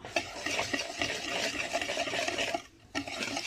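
Wire whisk stirring sugar, a pinch of salt and other dry ingredients for pastel de nata filling in a bowl, a steady continuous scraping swish with a brief pause near the end, close and alone.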